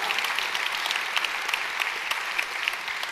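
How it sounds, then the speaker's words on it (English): Audience applause at a science lecture, a steady dense wash of clapping from a large crowd, continuous and moderately loud. "you can applaud to that"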